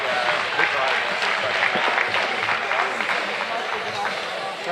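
Audience applause in a show arena honoring a class winner at a regional junior swine livestock show, a steady broad wash of clapping sustained throughout, with voices mixed in underneath.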